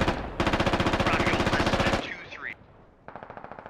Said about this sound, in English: Here comes the big barrage.